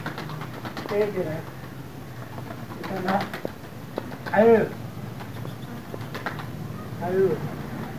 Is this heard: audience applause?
no